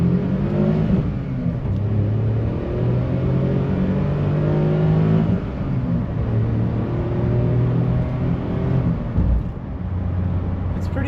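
A 1999 Mitsubishi Toppo BJ kei car driving, its small engine humming steadily with rising and falling rev tones through the gears, loud and close throughout.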